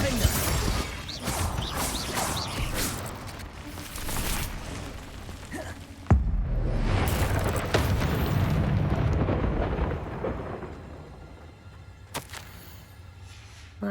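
Spell-casting combat in Hogwarts Legacy: loud, rumbling magical blasts and crashes come in waves, with a sharp impact roughly midway and another later, while a voice shouts spell names over the din.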